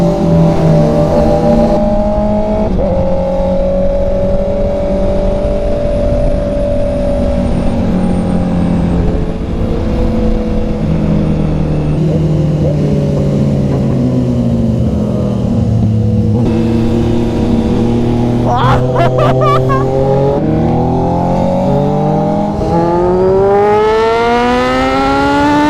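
A Honda CB650R motorcycle engine revs repeatedly, its pitch sweeping up and down in long rising and falling pulls, loud and continuous with no talking, plus a brief scraping rattle partway through.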